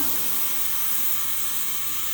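Pressure cooker cooking beans, hissing steam in a steady, even broadband rush with no pauses, moderately quiet and heard on its own.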